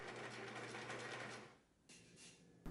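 A sewing machine stitches a waistband onto a plaid mini skirt, a quiet steady whirring hum for about a second and a half, pausing briefly, then a short second run close by.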